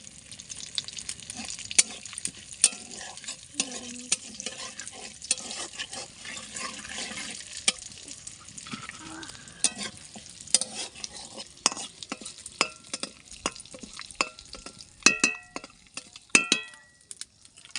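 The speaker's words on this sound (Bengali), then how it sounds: "এবার কড়াই দিয়ে দিচ্ছি গোটা গরম মশলা, ফোড়ন, শুকনো লঙ্কা," Whole garam masala, dried red chillies, tempering spices and bay leaves frying in mustard oil in a wok, with a steady close sizzle, stirring scrapes and sharp clinks of the utensil against the pan.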